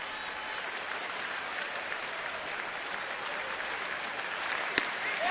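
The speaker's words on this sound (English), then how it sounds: "And a groundswell of applause starting here." Baseball stadium crowd at a Marlins–Nationals game swelling into steady applause, a broad distant roar that builds gently, with one sharp knock near the end.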